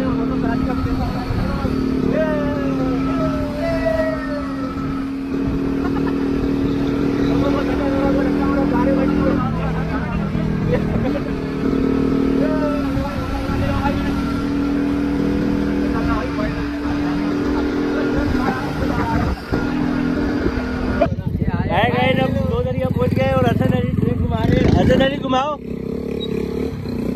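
A motorcycle ridden through rain in Karachi gives a steady engine drone mixed with wind and road noise, with people talking over it throughout and a rougher, louder rush near the end.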